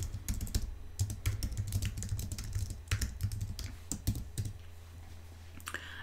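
Quick, close bursts of typing on a computer keyboard, a rapid patter of key clicks for about four seconds and then a brief pause, with no voices.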